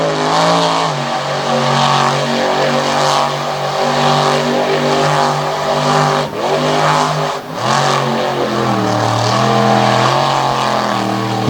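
Monster truck doing a smoky burnout on the pavement at Jennerstown Speedway on Chinese-made tires: a loud, continuous engine roar with rising and falling revs, close and unbroken throughout.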